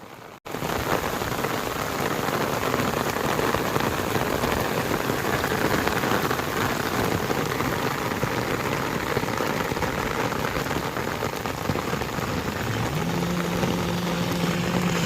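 Heavy rain pours down in a loud, unbroken roar of drops on surfaces, with a faint low engine-like hum near the end.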